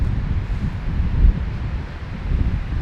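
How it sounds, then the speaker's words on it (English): Strong wind gusts across the Wyoming backcountry during an elk hunt, a steady low roar with broadband buffeting and a slightly stronger gust near the middle, continuous with no voices. "wait till this wind is supposed to die down tonight"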